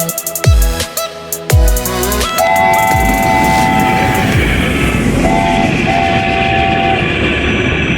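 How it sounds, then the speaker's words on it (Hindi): Kalka–Shimla toy train rolls along the line: two heavy clanks open, then a steady rumble of wheels and carriages, with a loud, sustained two-tone horn blowing twice near the middle and end; no voices. "यहाँ से हमारी आगे की जो ट्रैवलिंग है वो टॉय ट्रेन से हम करेंगे शिमला तक की।"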